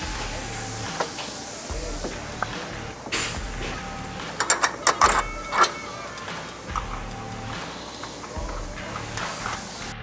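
A ratchet fastens the upper control arm to the knuckle of a Polaris Ranger 1500 X fitted with a long travel suspension, giving close, repeated quick clicking bursts with metallic clinks in the middle.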